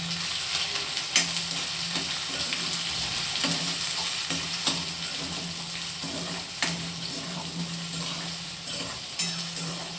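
Onion and curry leaves fry and brown in a pan with a steady, close sizzle and occasional stirring scrapes, continuous throughout with no talking.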